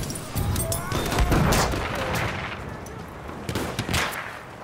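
Gunfire and a grenade explosion in a first-person shooter video game: dense, loud rattling shots and booming blasts fill the whole stretch, with occasional sharp bursts standing out.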